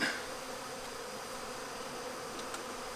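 Honey bees buzz at an open hive during beetle and wax moth treatment, a steady dense drone close by with no voices.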